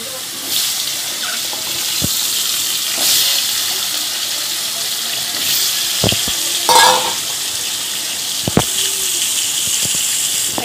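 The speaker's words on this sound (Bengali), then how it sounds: "এবার আলুগুলো ভেজে নেব।" Potatoes sizzle steadily as they fry in oil in a pan for a Bengali home-style dish, with occasional sharp clinks and scrapes of a utensil stirring.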